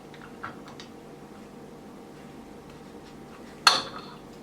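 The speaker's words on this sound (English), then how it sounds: "you can remove the inner cup lid using the inner cup lid removal tool" A lid removal tool prying the inner cup lid off a consumable, a faint tap early on, then one sharp plastic click and clatter near the end over quiet background.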